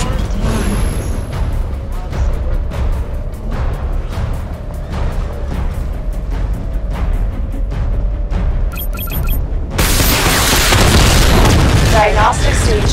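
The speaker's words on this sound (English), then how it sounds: "Charge up missile barrage to level 2 and destroy 4 active targets to complete diagnostic test." Batmobile missile barrage in Batman: Arkham Knight, a long run of deep booming game explosions with rhythmic firing pulses and a tonal hum, then a louder burst of blasts at the end, with an in-game voice speaking over it.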